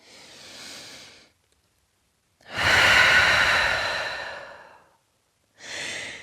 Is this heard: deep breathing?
yes